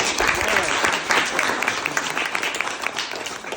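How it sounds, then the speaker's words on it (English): A dense, steady round of applause fills a fan Q&A session with YouTuber LaZeRJET, the many hands blending into continuous loud clapping throughout. "So let's give a round of applause for that"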